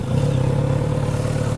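A Kawasaki Z900 RS motorcycle engine runs after an oil and filter change, a loud, steady low idle hum with a brief dip near the end.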